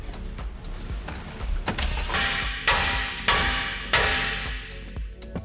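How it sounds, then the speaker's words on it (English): Several sharp metallic hammer blows ring out, spaced about a second apart, each striking metal tabs on a Toyota 4Runner with a bright clang that quickly fades. "So you hammer them down just slightly so that they can clear"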